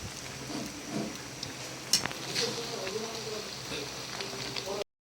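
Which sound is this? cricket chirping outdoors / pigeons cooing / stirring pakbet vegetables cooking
stirring pakbet vegetables cooking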